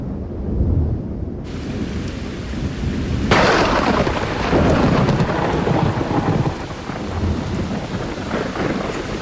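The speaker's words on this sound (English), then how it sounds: "Soon, there will be rain." A thunderstorm rolls over the Galapagos Islands: a sharp crack of thunder breaks into a long rumbling roll, with steady heavy rain pouring throughout, loud and close, with no voices.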